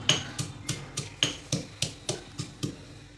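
Green chillies pounded into thecha for potato vada stuffing, a steady series of about eleven sharp, evenly spaced thuds close by, each a crisp knock with a short ring, with no other sound between the strikes.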